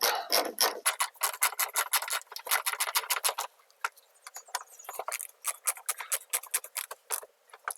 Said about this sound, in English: tighten them down with my ratchet